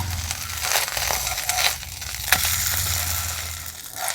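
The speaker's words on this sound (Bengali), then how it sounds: "উল্টো পিঠটা এইভাবে হালকা করে ভেজে নিয়েছি" An aloo kulcha flatbread fries in ghee in a pan, crackling and sizzling up close with scattered sharp pops and crisp rustles over a low steady hum.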